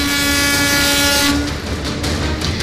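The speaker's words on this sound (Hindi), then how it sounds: "रेल मंत्री अश्विनी वैष्णव की मौजूदगी में ठीक उसी जगह से मरम्मत की गई पटरियों पर ट्रेन दौड़ाई गई, जहां मौत का मातम पसरा था।" A train runs over freshly repaired tracks at the site of the Coromandel Express accident, opening with a loud sustained horn blast that gives way to the rolling noise of the passing train.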